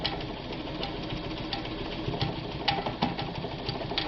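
A Ford Deluxe sewing machine stitching through fabric whirs along steadily with a fast, even rhythm, close and moderately loud, with no talk over it.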